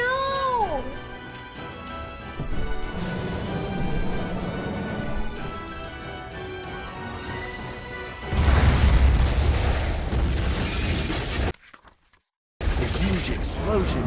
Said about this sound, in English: A huge explosion from the impact drowned out everything else in the attic.